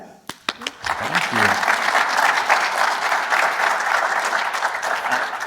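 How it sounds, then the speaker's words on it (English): Audience at a space summit breaks into sustained applause after a few isolated claps, a steady dense wash of clapping from a large room with a voice briefly heard over it. "big round of applause for Mac for taking on the challenge of spreading space to everybody"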